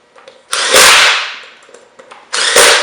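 A power drill drives screws during a brake caliper installation, two sharp bursts of whirring close up with brief quiet gaps and small clicks between them.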